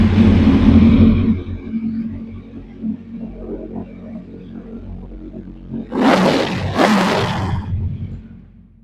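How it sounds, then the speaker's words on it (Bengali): A Kawasaki Z900 motorcycle fitted with an Arrow exhaust rumbles loudly up close, then the engine settles into a lower idle before two sharp, roaring throttle blips. "গাড়িটা স্টার্ট করে সাউন্ডটা শোনাবো।"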